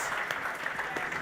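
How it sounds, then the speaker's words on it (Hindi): A short burst of audience applause at a CA result celebration event, moderately loud with overlapping claps and some speech mixed in. "एक बार दो तालियां यार, एक बार दो"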